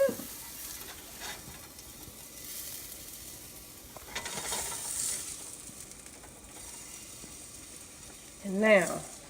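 Mushrooms frying in a pan, a soft steady sizzle with occasional scraping and stirring clicks, fairly faint, ending with a brief higher squeak.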